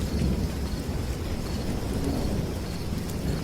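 Thunderstorm with steady rain on a lonely rural road at night, a soft continuous hiss of rainfall with low rumbling thunder underneath, fairly faint and even, no voices.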